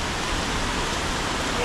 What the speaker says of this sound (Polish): So finally we have rain.